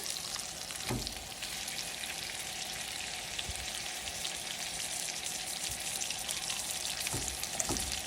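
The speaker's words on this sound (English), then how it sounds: "So this skillet is sizzling, so I'm gonna go ahead and add my steak on here." Loud, steady sizzling and crackling of steak frying in a hot skillet, continuous with a couple of soft knocks.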